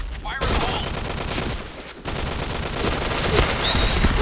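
Rapid bursts of gunfire from a shooting video game crackle loudly and almost continuously, with a short dip in the middle before the firing picks up again.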